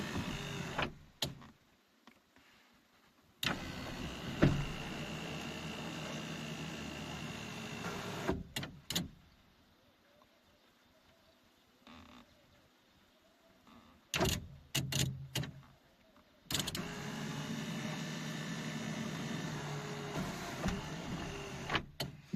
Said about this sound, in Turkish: Bu şekilde sunroofumuz çalışıyor.